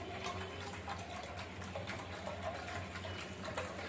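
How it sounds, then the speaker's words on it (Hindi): Water poured into a pot to thin besan kadhi made with leftover buttermilk, a steady soft gushing stream running for several seconds, fairly quiet and close. "अब हम इसमें ऐड करेंगे पानी"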